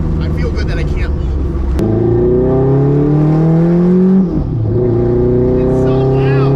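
A modified supercar-hunting car's engine revs loudly and close, a sustained droning roar that climbs in pitch, dips briefly and climbs again, with voices talking over it.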